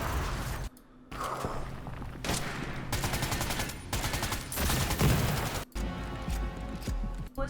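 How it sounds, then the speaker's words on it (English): Shotgun and rifle fire in the online multiplayer shooter Project LLL, with dense bursts of loud gunshots and rapid volleys that run almost continuously, broken by a few brief pauses. "Now he's using a shotgun, a rifle."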